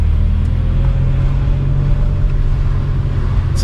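A barn-find Maserati Biturbo on the road, its engine droning as a steady low rumble with constant road and wind noise, loud and close throughout, no talking.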